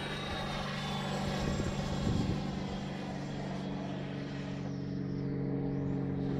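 A Freewing Avanti S 80mm electric ducted-fan RC jet flies past, giving a steady, loud whine with a broad rushing roar that holds throughout and fades slightly near the end.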